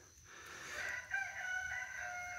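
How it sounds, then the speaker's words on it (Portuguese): A single rooster crows once, at a distance and faintly, at 4:30 in the morning, the drawn-out call rising and then holding against quiet early-morning air. "eu esperei o primeiro canto do galo, são 4h30 da manhã"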